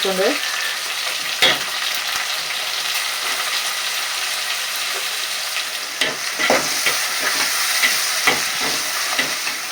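Tomatoes sizzle and fry in a pan for a village-style fish curry, a steady close crackle with occasional stirring knocks and scrapes toward the end.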